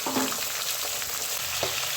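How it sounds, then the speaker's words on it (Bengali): Chopped tomatoes frying with browned garlic in a pan for tomato chutney, a continuous close sizzle with a couple of stirring scrapes, brief and without talk. "এই যে রসুনটা ভাজা হয়ে গেছে, এবার টুকরো করে কেটে রাখা টমেটোগুলো দিয়ে দিতে হবে"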